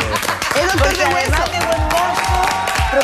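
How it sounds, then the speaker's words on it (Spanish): A studio audience on a Spanish-language talk show claps and cheers loudly, with a bright musical sting and a thumping beat playing over the dense applause. "te queremos dar un aplauso"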